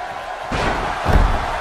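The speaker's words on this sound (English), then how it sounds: "German suplex there by Kobayashi" Crowd roar from a WWE 2K17 wrestling video game swells as a German suplex slams an opponent onto the mat, a heavy thud landing about midway through.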